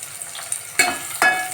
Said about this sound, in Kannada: ಕಟ್ ಮಾಡಿ ಇಟ್ಕೊಂಡಿರೋಂತಹ ಒಂದು ಈರುಳ್ಳಿ ಕೂಡ ಹಾಕ್ತಾ ಇದ್ದೀನಿ ಇಂತಿಷ್ಟು ಒಗ್ಗರಣೆ